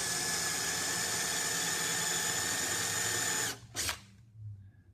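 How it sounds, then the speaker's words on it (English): A drill press whines steadily at high speed, loud and close, drilling into wood, then the motor cuts off abruptly with a short clunk and fading rumble. "And start drilling"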